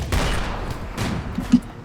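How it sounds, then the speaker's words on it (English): Auto cannons firing in bursts in a video game, with rapid dull thumps and booms in clusters at a moderate distance, and one sharper hit near the end. "Now that is auto cannons. It probably has a burst"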